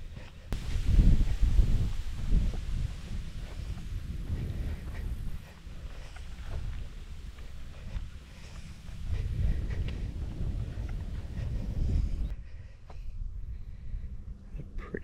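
Outdoor wind on a hot day atop a rocky prairie outcrop at Blue Mounds State Park, Minnesota, gusting as a steady low rush and buffet that swells and eases across the whole stretch, dropping quieter near the end.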